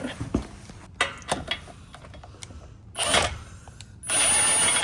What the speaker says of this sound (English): now I'm going to go ahead and secure the winch to the winch plate using the hardware provided. For this, I'm going to be using a 15mm socket.